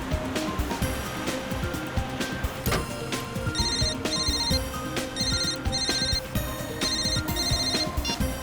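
A telephone ringtone sounds during a crime drama scene, a bright repeating electronic melody pulsing in steady bursts over background music, fairly loud and close.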